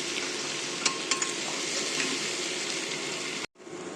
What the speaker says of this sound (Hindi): अच्छे से मैं इसको फ्राई कर लेती हूँ